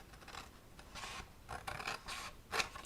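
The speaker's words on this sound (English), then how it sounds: "So we're just going to hand cut this." Paper is hand cut with scissors, a quiet run of short crisp snips and rustles in uneven bursts, close but faint, with no talking.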